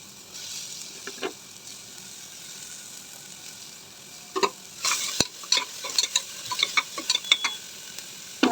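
Ridge gourd pieces frying lightly in a pan for homemade baby food, a soft low sizzle broken by scraping, clinking stirs that grow busier and louder toward the end.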